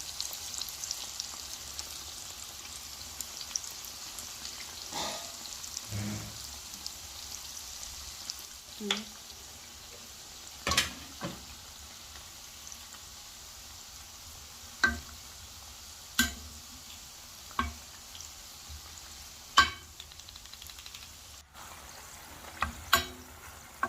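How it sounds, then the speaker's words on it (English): Soft, steady sizzle of koose (bean fritters) frying in oil, punctuated by occasional sharp clinks and taps of utensils against the pan. "So I'm done frying these ones."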